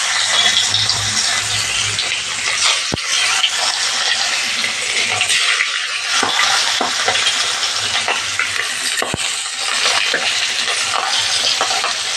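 Fish frying in coconut oil makes a loud, continuous sizzle and crackle close up, with a couple of sharp knocks and some stirring along the way.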